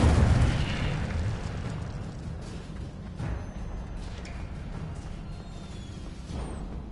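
A fiery Incendio spell burst in the Hogwarts Legacy video game, a loud whooshing boom at the start fading into a crackling, rumbling roar with a few smaller pops.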